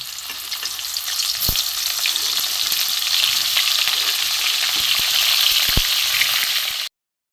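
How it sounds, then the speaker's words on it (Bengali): Cauliflower florets, soaked in salt water and drained, sizzle steadily in hot oil for a vegetarian roast, with a dense continuous crackle and a couple of sharp clinks from a utensil against the pan. "তেলও গরম হয়ে গেছে আমি একটু ভেজে নেবো কপিগুলো"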